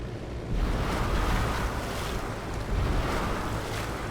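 Water rushes and splashes steadily beneath the hull of the Hughes H-4 Hercules flying boat in Microsoft Flight Simulator, a dense, loud wash with surging swells, alone without voices.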